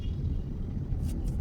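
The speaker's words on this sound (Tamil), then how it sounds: "இங்கே பாருங்க எவ்வளோ தூரத்துக்கு டிராஃபிக்னு." Heavy road traffic in Coimbatore makes a low, steady rumble of idling and creeping vehicles nearby, with a brief hiss like an air brake near the end.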